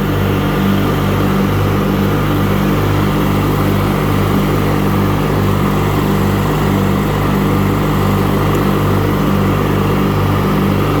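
PowerKraft hydrostatic riding lawnmower with an 18hp opposed-twin Briggs engine running at steady speed, a loud, close, continuous throbbing drone with a regular low pulse and no speech.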